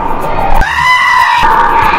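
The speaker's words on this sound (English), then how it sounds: "It's a goat." A goat gives one drawn-out, wavering bleat that carries through the steady background din of a hockey arena before a women's game.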